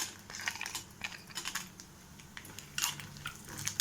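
Cashews dropped into a pan of roasting grated coconut for moong dal payasam, giving scattered light clicks and rattles against the metal amid soft sizzling, fairly quiet and close.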